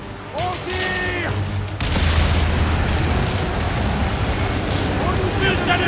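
Cannon fire and explosions roar through a naval battle in the video game Assassin's Creed Origins, a loud sustained rumble after a sudden burst, with voices shouting over it.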